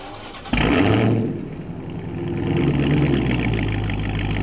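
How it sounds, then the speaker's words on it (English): A 1970s farm truck engine in the Farming Simulator video game, cranking into life with a sudden loud start, then settling into a steady low rumbling idle that swells slightly. "Let's go ahead and start this thing up."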